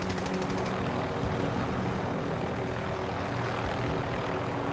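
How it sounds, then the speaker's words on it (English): A steady, dense rotor-and-engine drone from a helicopter during a video game chase fills the scene continuously at an even level, with no voices. "Helo chases in the sky."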